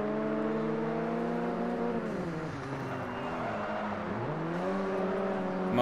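Car engine revving in the Forza Horizon racing game while chasing a legendary Bugatti EB110, a steady loud drone with harmonic pitch sweeping up and down as the car accelerates and shifts, no talk.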